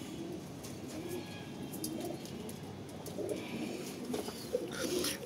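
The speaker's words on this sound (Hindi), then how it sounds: "ये वाला कबूतर हमारा वापस आया है।" Nesting pigeons in a loft coo in soft, low, continuous rolling murmurs with faint chirps above.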